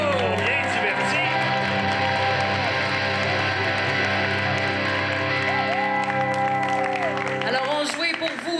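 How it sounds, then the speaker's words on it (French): An audience applauds and cheers for improv players at a live theatre show, with sustained clapping and crowd noise under a loud voice speaking over it throughout. "On les applaudit très fort."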